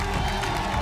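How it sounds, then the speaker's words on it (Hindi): A television studio audience bursts into dense, loud applause for a contestant from Dombivli, a brief, continuous wash of clapping and cheering. "जोरदार तालियां डोंबिवली की अंजलि जसूस जी के लिए।"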